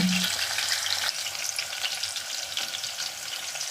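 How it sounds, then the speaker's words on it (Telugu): Mint and curry leaves fry in oil for a bottle gourd and moong dal curry, giving a loud, bright crackling sizzle close up that continues throughout, with a brief low thump at the start. "కరివేపాకు వేసుకోండి ఆయిల్లో మంచిగా గోలియండి"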